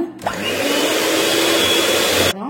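An electric mixer beats eggless strawberry tiramisu cream with rose syrup, its motor starting with a rising whir, holding a loud, steady whine for about two seconds, then cutting off.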